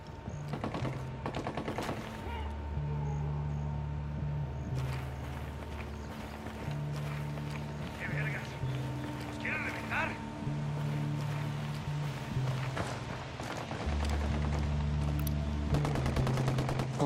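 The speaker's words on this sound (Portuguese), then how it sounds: "Tem uns rebeldes trocando tiros." Rebels exchange gunfire in Tom Clancy's Ghost Recon Wildlands on PC, with scattered distant shots and bursts crackling throughout under a low droning music bed.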